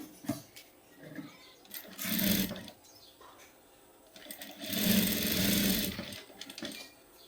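A sewing machine stitches the neck of a blouse in two close, whirring runs of a second or so each, with quieter gaps of handling between them and no talk.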